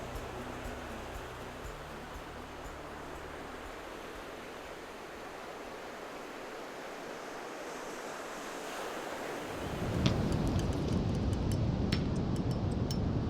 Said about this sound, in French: malgré les vagues qui déferlent devant son club